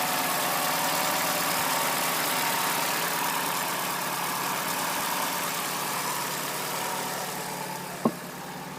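A car engine idles steadily after a clutch replacement, the motor's typical tappety character showing as a constant mechanical drone with a brief click near the end, and no one speaking.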